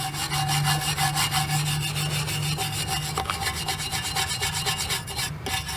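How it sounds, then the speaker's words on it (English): A stainless steel wire brush scrubs the surface of an old gravestone, producing a steady, close, rhythmic rasp of quick back-and-forth strokes. "I got a stainless steel wire brush here"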